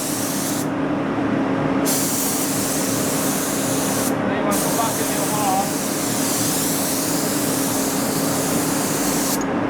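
A loud, steady spray hisses almost without pause while finishing a DIY camper kitchen, cutting out briefly a few times, while a person talks over it.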